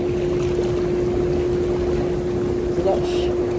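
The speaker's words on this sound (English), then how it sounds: "Here come the bubbles." Hot tub jets bubble steadily aboard a cruise ship, a constant rushing hiss with a steady motor hum beneath, and people talk faintly in the background.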